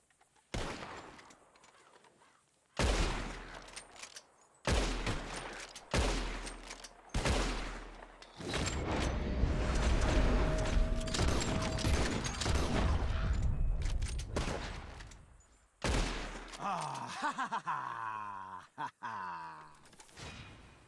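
Loud, close gunshots in Red Dead Redemption 2 aimed at flying birds: several separate shots with sharp decays, then a sustained rumbling volley and mechanical clicks near the end.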